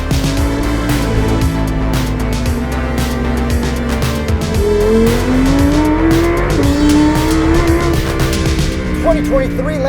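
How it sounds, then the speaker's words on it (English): A 2023 Lamborghini Huracan Tecnica, rated at 631 horsepower, launches from a race start. The engine roars loud and close and climbs steadily through the revs with rising pitch, and a voice is faintly audible over it. "Lamborghini Huracan Tecnica with race start"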